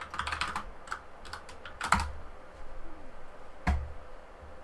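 Keystrokes on a computer keyboard typing a short message, a quick burst of clicks up front, then a few scattered presses and a louder single tap near the end over faint room noise.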